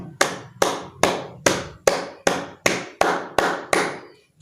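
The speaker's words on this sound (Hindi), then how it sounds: "मैं महाराष्ट्र की पुलिस सरकार के लिए तालियां बजाना चाहता हूं।" Sharp percussive claps, nine in a steady, evenly spaced rhythm, each a bright broadband burst with a short decaying tail, close and fairly loud with no voices.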